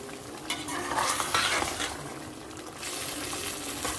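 Stuffed eggplant for baingan masala is stirred into spicy masala in a hot pan, with a spoon scraping and clattering against the metal over a constant sizzle, close and fairly loud.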